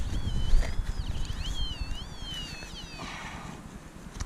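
A metal detector sounds a high, wavering tone over buried can slaw, the pitch wobbling up and down for a few seconds before fading, carried over steady outdoor wind rumble close to the microphone.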